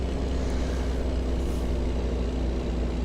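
A heavy truck engine in the American Truck Simulator game hums as a steady, low, dense drone that stays at an even loudness, with no voices over it.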